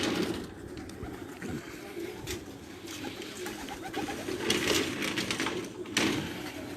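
Racing pigeons of a champion loft in Dina, Jhelum, cooing softly amid flapping wings as they take off, with someone talking over the birds and steady outdoor background noise.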